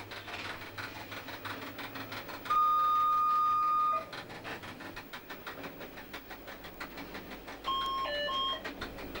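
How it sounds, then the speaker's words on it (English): Vigilance alarm in the driver's cab of a Swiss MOB Golden Pass railway train, sounding as a steady loud electronic tone for about a second and a half, then a shorter warbling beep pattern, over the continuous rumble of the moving train. "That was the vigilance alarm. It sounds if the driver has made no movement of any of the controls during a period of 30 seconds."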